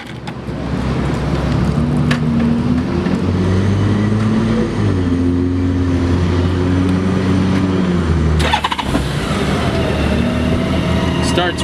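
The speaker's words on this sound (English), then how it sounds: "It's a 2002 Honda Goldwing. We'll go ahead and start it up so we can hear it." A 2002 Honda Goldwing GL1800 motor trike engine running steadily nearby, a smooth, even hum with a low rumble and a brief clatter near the end.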